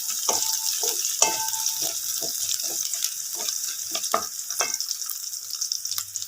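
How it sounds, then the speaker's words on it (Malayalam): Green chillies sauté in a pan, a soft continuous sizzle broken by a series of close scraping stirs at irregular intervals, with no voices. "ഇതിൻ്റെ പച്ചമണമൊക്കെ ഒന്ന് മാറുന്നത് വരെ നമുക്കിതൊന്ന് ഇളക്കി കൊടുക്കാം."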